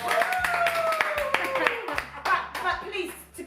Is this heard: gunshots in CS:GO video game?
no